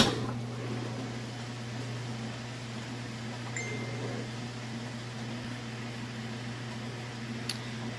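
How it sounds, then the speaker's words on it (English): A Kenmore washer in its final spin cycle gives off a steady, smooth, quiet hum with a constant low tone and faint airy whir, unchanging throughout and free of speech. "Okay, so here it is in that final spin cycle."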